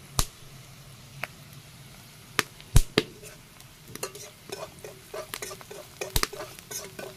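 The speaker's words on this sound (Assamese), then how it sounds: "হালধিখিনি দি অকণমান সময় এনেকৈ লৰাই দিম।" Turmeric and chilli powder being stirred through onions in a hot pan, with sharp scattered clicks and scrapes of a spoon over a faint steady sizzle, close and fairly quiet, no voices.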